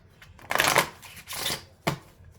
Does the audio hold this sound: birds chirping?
no